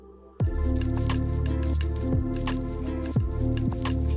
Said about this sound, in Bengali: এখানে আমি মূলোটাকে ঘষে নিয়ে এটা চিপে জল বার করে নিচ্ছি।